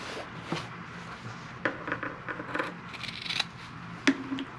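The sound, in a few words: scissors trimming fabric corners of a clutch bag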